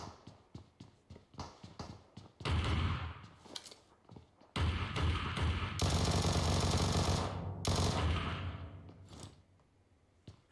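Rapid automatic gunfire from a battle royale shooter game, PUBG Mobile, with short tapped bursts early on, then long, loud, dense volleys of shots that continue almost without a break before they stop.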